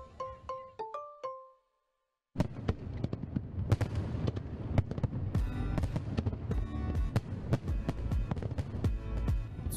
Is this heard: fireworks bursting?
yes